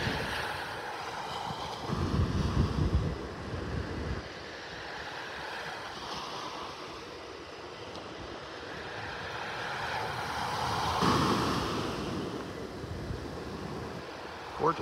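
Gentle surf washing onto a beach in North Naples, Florida on a calm morning, soft waves rolling in and swelling every few seconds under a steady hiss of breeze and faint wind buffeting.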